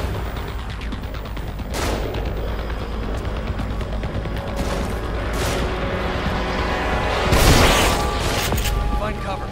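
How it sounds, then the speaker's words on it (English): Enemy gunfire in The Evil Within video game: a few sharp, loud shots crack out at irregular intervals over a constant low rumble of ambient noise, with the heaviest burst near the end. "They're shooting."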